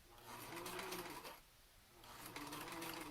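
An old sewing machine stitches through a bulky fabric mask, its rapid mechanical whir running steadily up close, dropping out briefly midway before resuming.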